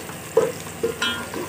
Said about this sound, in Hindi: इधर हमारे करेले अभी फ्राई हो रहे हैं